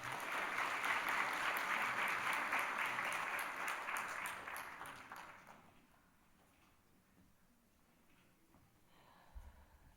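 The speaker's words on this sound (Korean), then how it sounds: "박수로 축하하겠습니다" A church congregation applauds together during a worship service, a loud, dense burst of clapping that holds steady for several seconds and then quickly dies away into near silence.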